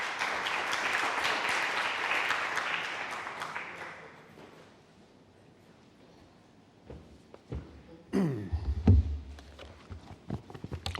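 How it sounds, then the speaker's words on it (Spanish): Audience applause welcoming a speaker to a book talk, a dense burst of clapping that fades after a few seconds, followed by scattered taps, shuffling and handling noises. "démosle un aplauso de bienvenida"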